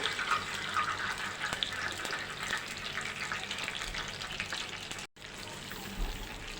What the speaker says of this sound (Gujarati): હવે આપણે તેમાં પાણી એડ કરીશું.